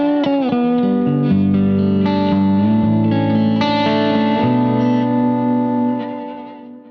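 Electric guitar with a single coil pickup through a DCC Plexi amp, tone on 5 and volume on 4, playing a flowing melodic solo line of sustained, lightly overdriven notes with bends, close and steady, fading at the end.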